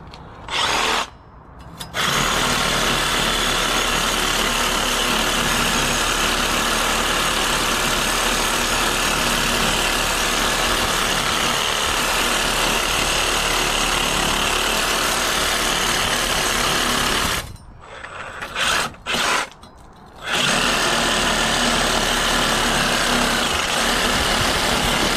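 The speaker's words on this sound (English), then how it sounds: "Recip saw." A reciprocating saw cuts steadily in a close, loud, continuous buzz, with two short pauses where the blade stops before starting again.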